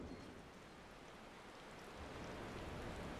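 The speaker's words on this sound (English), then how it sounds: "And it's still raining here." Steady rain falls in Final Fantasy XIV, a soft continuous hiss of drops at low volume with no other sounds over it.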